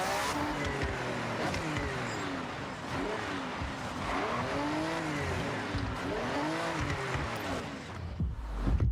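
MG Metro 6R4 all-wheel-drive rally car in the Forza Horizon racing game, its engine revving continuously and rising and falling through gear changes, loud and steady with no talk.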